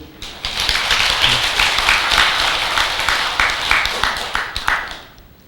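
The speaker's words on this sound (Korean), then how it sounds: "그분들한테 박수 한번 보내줘." Audience applause fills a Buddhist dharma talk hall, a dense, steady wash of clapping for about five seconds that thins and fades out at the end.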